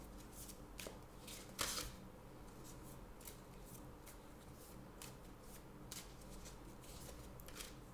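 Tarot cards being shuffled by hand and drawn for a reading, a steady papery riffle and rustle with a few sharper slaps and flicks, close and fairly quiet with no voices.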